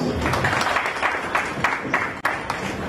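Audience applause at a climate and food security launch event in Freetown, Sierra Leone, a steady moderate round of clapping from a crowd with a few sharper claps standing out.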